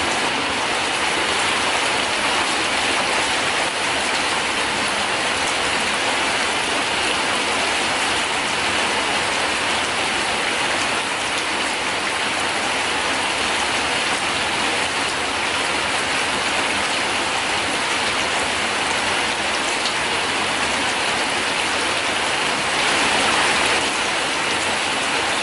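Heavy tropical rain pours steadily onto a flooded garden, a dense, even hiss of drops on water and leaves that holds at constant loudness throughout, with no voices.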